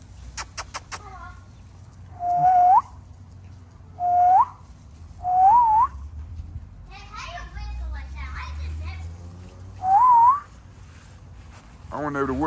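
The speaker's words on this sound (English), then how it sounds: "Hey, how you whistle like that?" A person whistles four short rising notes with gaps between them, against a faint background of children's voices and a clucking chicken.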